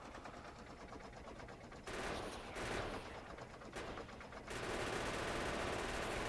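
Rapid automatic gunfire from turrets in the Factorio video game rattles in dense continuous bursts, swelling louder in stretches and keeping up a steady machine-gun clatter throughout.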